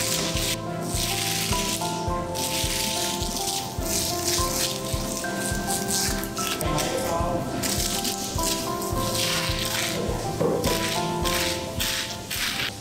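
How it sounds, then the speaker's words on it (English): An industrial grinder descales a giant grouper under running water in a processing factory. It makes a continuous rattling, scraping whir over steady splashing, with tonal machine hum throughout. "workers will use an industrial grinder to clean the fish scales under running water."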